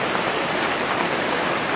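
Steady rain falls in the mountains on the way to Neelkanth Mahadev, a dense, even hiss of drops spread across the whole clip with no voices.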